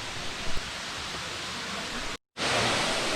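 A mountain waterfall on a North Carolina hiking trail gives off a steady, broad rushing hiss, constant and fairly close, interrupted by a brief dropout near the end.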